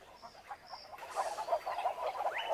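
Motmots, racket-tailed birds that dig nest burrows near the Maya ruins of El Salvador, squabbling with harsh, honking calls that build and grow louder and busier over a couple of seconds, with no talking.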